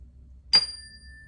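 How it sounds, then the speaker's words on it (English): A single bell is struck once and rings out with a bright, sustained metallic tone that decays slowly in an otherwise quiet room. "bells to me remind me I'm awake and I'm here now"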